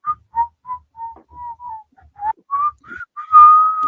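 Someone whistles the Inspector Gadget cartoon theme tune alone, a string of short clear notes close to the microphone that rise toward a longer held note at the end.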